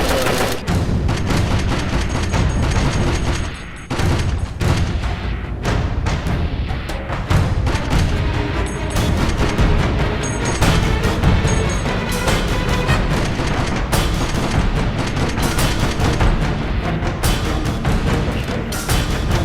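Dense, continuous gunfire in the video game DayZ Standalone during a battle for the town of Svetlo, with rapid overlapping shots and heavy thuds filling the whole stretch at high loudness.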